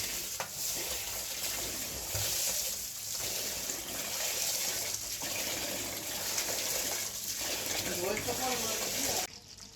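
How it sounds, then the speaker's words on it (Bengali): Polao rice is washed in a bowl of water, giving continuous splashing, swishing and trickling close by, broken by short pauses. "এখন আমরা একটি পাত্রে পরিমাণ মতো পোলার চালটি ঢেলে দেব এবং তা সুন্দর মতন ধুয়ে নেব।"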